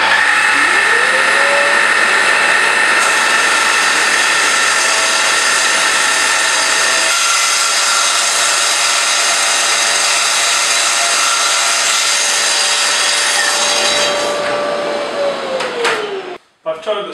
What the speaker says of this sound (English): I've set the saw speed as low as it will go because this is perspex.